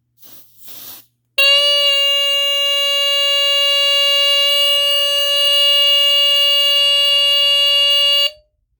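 A Sears Early One 9-57001 smoke detector under test blares a loud, steady electronic alarm tone for about seven seconds, after a brief soft rustle, then cuts off abruptly.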